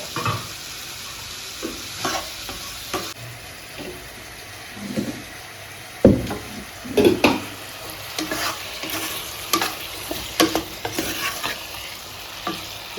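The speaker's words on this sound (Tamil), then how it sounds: "உப்பு சேர்த்துட்டேன் நல்லா வதக்கி விட்டுட்டு" Ground fish curry masala sautéing with salt in a pan, with repeated close scraping stir strokes over a steady low sizzle, louder bursts of stirring in the second half, no voices.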